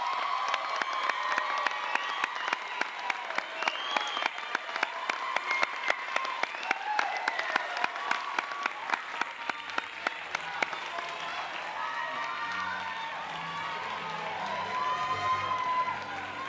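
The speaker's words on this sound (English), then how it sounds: "let's give them a round of applause." Sustained applause from a large graduation ceremony crowd, steady clapping throughout with some cheering and voices mixed in, continuing strongly to the end.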